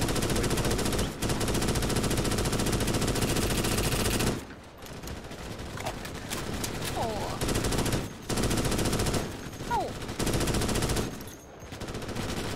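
Loud, sustained automatic gunfire from the video game Starship Troopers: Extermination, near-continuous bursts broken by a few short pauses, with faint battle noise and chirping bug calls in the gaps.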